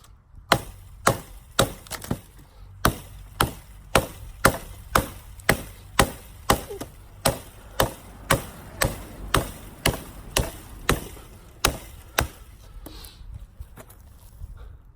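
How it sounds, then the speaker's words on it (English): A small Fiskars X7 hatchet chops a thick chunk of wood in about two dozen sharp, loud, evenly spaced strikes, each a close crisp thwack, steady for fifteen seconds with no talking. "That's a pretty good chunk of wood right there for a little bitty hatchet, and you can see it cut through it"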